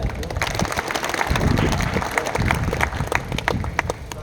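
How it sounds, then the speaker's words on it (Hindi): An audience at a Hindi comedy and poetry show claps together for several seconds, a dense patter of hands in a hall with some crowd murmur mixed in. "चलिए एक बार तालियां बजा दीजिए"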